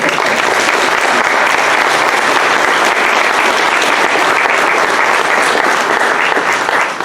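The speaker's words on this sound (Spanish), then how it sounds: "Despidámoslo con un fuerte aplauso." A large audience at a medical lecture on pneumonia applauds steadily and loudly, a dense wash of clapping that holds at full strength for several seconds without any voices.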